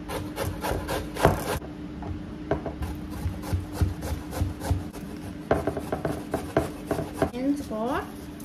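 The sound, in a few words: grating carrots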